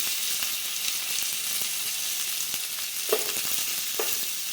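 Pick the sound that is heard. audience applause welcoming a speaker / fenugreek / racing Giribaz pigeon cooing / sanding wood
fenugreek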